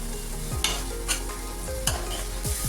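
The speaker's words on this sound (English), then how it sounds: "I'll also add 1 finely chopped green chili and continue cooking the masala." Tomato masala with finely chopped green chili frying in a pan for chhole, with a dense continuous sizzle and several soft scraping stirs at an even rhythm.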